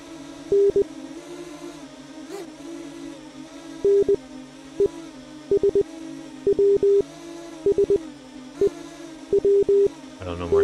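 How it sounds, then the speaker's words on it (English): Short electronic Morse code beeps in the Liftoff FPV Simulator video game, arriving in irregular bursts of dots and dashes over a steady droning game background while a person talks. "Is it beeping at me? Oh, I got some Morse code."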